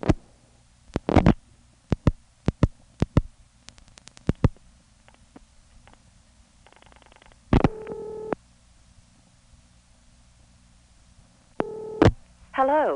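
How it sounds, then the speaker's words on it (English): Telephone line tones and clicks as a call is dialed to 451 and tandems through an NX1 switch on the 1970s Warwick, New York network, with sharp dial pulses, brief tone bursts and short line buzzes over a quiet hiss. "Let me dial 451 and demonstrate the NX1, how it tandems out."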